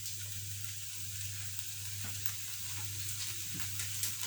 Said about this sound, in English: I'm still frying my vegetables.